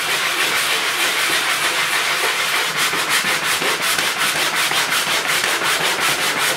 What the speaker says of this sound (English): you can use a whetstone. Grinding over the surface.